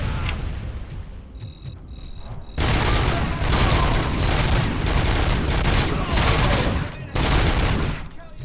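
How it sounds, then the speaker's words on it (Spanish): Gunfire and an explosion in the video game RoboCop: Rogue City: a quiet lead-in, then a sudden loud burst of rapid automatic fire and blasts that continues with brief pauses. "Esta granada."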